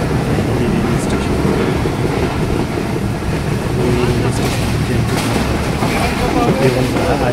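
A train's steady rumble at Hili railway station on the Bangladesh–India border in Dinajpur, heard close and continuous with buffeting wind noise and a person talking over it.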